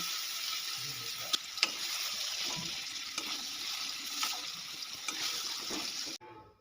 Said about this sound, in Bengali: কুমড়োগুলোকে লাল লাল করে ভেজে নিয়েছি ভাজা হয়ে গেছে এবারে তুলে নেব কুমড়োগুলো